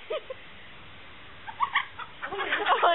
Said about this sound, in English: You like to hypnotize chicken?